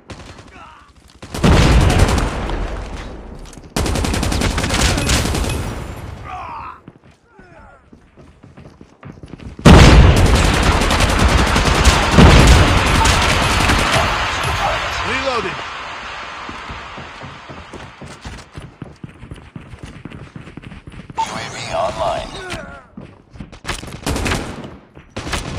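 Weapon skins firing in Call of Duty Mobile produce loud, rapid bursts of automatic gunfire in several long volleys, with short pauses, impacts and quieter gaps between strings of shots.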